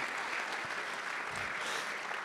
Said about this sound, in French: Et on peut applaudir Jean-Michel Graviche également.